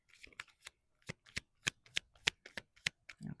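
Tarot cards being shuffled by hand, a quick series of crisp riffling bursts in a steady rhythm, close and clear with no talking.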